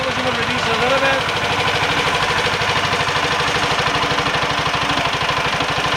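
Amtex Prowler 14 hp pressure washer engine idling with a steady, rapid, even thumping close to the microphone, holding a constant pace throughout.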